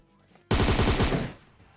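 An automatic weapon fires a rapid, loud burst of about a dozen rounds during a PUBG Mobile match, the shots running together for under a second before fading.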